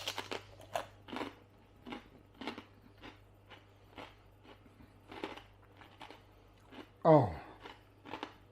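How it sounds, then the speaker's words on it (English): Roast pork crackling is bitten and chewed up close, making a run of sharp, crisp crunches at an uneven rhythm over a quiet background. "Oh, listen to that crunch."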